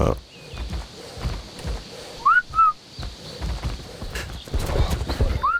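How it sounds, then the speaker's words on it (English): A short two-note whistle sounds in ARK: Survival Evolved, high and clear over footsteps and hoof-like clopping, with a person talking around it. "I also did the wrong whistle, so that doesn't help me at all."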